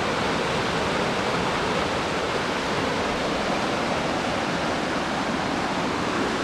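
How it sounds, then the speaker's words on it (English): Loud, constant rush of the fast, deep-running Uncompahgre River in Ouray, Colorado, a dense unbroken roar close by with no pauses. "This is the Uncompahgre River. And you can see it's running fast."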